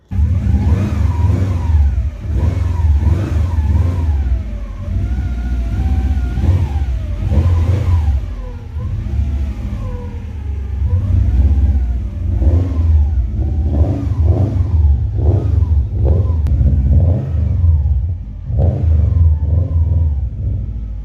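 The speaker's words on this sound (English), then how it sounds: "we'll start the Subaru, we'll get it outside" Subaru Impreza WRX (V1) engine starting and running outdoors, a steady loud mid-pitched engine note with repeated revving swells throughout, no talk.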